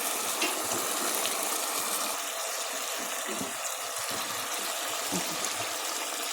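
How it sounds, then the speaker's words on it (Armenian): Water pours into a pot of cooking meat as a steady, close gushing wash that runs continuously and fairly quietly, with faint knocks underneath. "Կամ ջուր եմ լցնելու"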